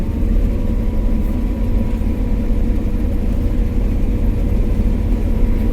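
A combine harvester engine runs in a wheat field at harvest, giving a loud, steady low rumble that holds even throughout with no talking over it.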